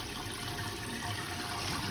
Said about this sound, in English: I usually like to have the water running for this